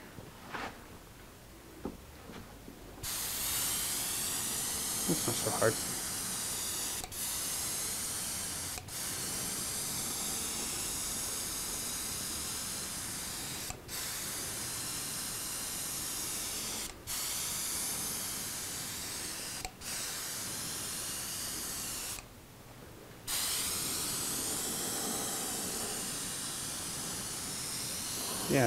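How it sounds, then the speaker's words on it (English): Steady spray hiss of finish being sprayed on a Martin 00-style acoustic guitar in a workshop, running almost continuously, broken by several brief pauses and one longer gap, with a short spoken remark near the start. "See if I can spray right-handed here."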